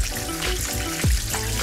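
Tap water running into a dish while boiled cardboard is rinsed in a home kitchen, a steady trickle and splash with a brief heavier gush partway through, close by, no talk.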